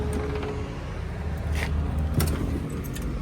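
A 1967 Pontiac GTO convertible with a four-speed idles steadily nearby, a low continuous engine rumble with light metallic rattles over it.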